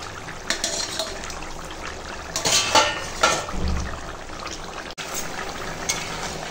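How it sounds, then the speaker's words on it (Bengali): Pieces of fried fish go into a simmering fish curry with bottle gourd greens and papaya, giving a soft splash and bubbling, followed by steady low sizzling and a few spoon scrapes. "এখন দিয়ে দেব এই ভেজে রাখা মাছ"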